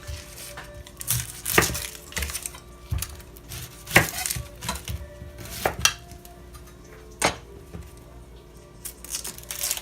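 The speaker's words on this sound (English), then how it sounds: "And I'm going to cut it into 3 large pieces so that I can fish it out of the curry later." A knife chops through food on a cutting board as it is cut into three large pieces for a curry, with a yellow onion following: sharp, irregular knocks up close, spaced unevenly over a quiet kitchen background, with no talk.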